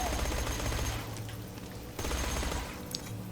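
Shock SMG gunfire in Borderlands 2 keeps up a continuous rapid rattle of automatic bursts, loud and dense, with a short dip in the middle and electric crackle over the fire.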